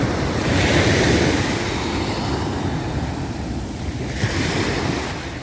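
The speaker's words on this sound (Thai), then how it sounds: "เสียงคลื่นกระทบฝั่งค่ะ" Sea waves break and wash onto the sand at Bang Saray beach in Sattahip, Chonburi, a continuous roaring surf with swells rising and falling, heard close by with wind buffeting the microphone and no talking.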